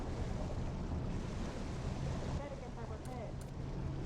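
Water rushes and floods into a submarine in the video game Barotrauma, a continuous roaring wash that stays loud throughout with a few faint tones on top.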